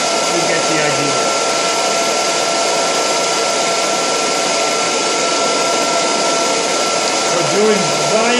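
Degritter ultrasonic vinyl record cleaner in its drying cycle, a loud, steady blower whoosh with a constant whine that holds unchanged throughout, close by and with no voices.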